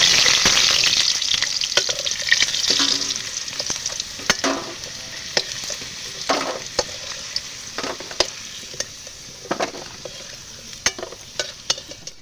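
Potatoes fry in hot oil in a pan while cooking a curry of raw jackfruit with green chilli paste: a loud, steady sizzle with occasional clinks from stirring, and no talk.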